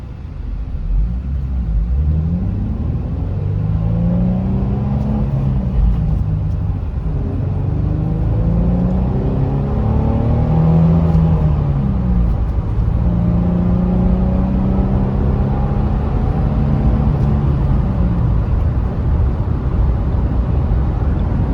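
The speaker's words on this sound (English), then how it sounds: "we'll get you a nice little acceleration clip so you can hear the exhaust a little bit better" A 2004 Nissan 350Z with a manual gearbox revs and accelerates through several gear changes, its exhaust note rising and falling in a steady, continuous rumble.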